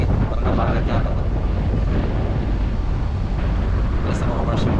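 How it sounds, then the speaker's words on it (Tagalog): Steady wind roars against the microphone on a boat moving across the sea near Burias Island, a constant broadband rush that runs the whole time with a little background talk. "Sarap ng hangin."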